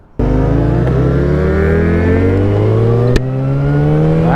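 Yamaha FZ1 motorcycle engine under way, a loud steady drone with rising revs as the bike accelerates, nearby and continuous with no talk.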